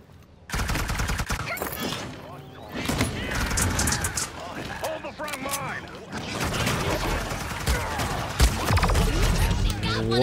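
Gunfire in the hero shooter Paladins during a ranked match, dense bursts of rapid shots and impacts running steadily under game effects, with a player talking over much of it.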